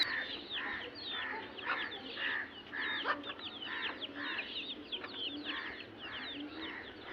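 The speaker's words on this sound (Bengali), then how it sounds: "বন্ধুরা, অনেক ছাই কালারের মুরগিও বাসায় হয়েছে।" Home-kept chickens, including grey-coloured hens, cluck in a steady, repeating rhythm of short calls at moderate distance. The calls are fairly soft over a low background hum, with pigeons kept nearby.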